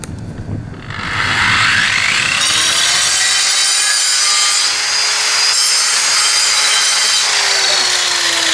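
Angle grinder cutting off the last bits of a paving brick held in a jig outdoors on grass, a loud close whine that spins up and then holds a harsh, gritty cutting scream for several seconds.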